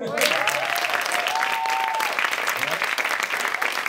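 A studio audience bursts into loud applause, with a whistle or whoop rising over the dense clapping early on and the applause staying full to the end.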